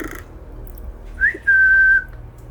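A person whistles inside a reportedly haunted building: a short rising chirp followed by a long, steady sustained note, clear and alone in a quiet space.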